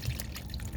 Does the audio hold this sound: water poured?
yes